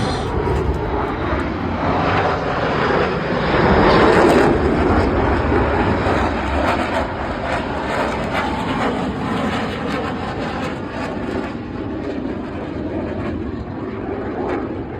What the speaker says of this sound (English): Their goal in this maneuver is all 4 aircraft are going to reach center field at exactly the same time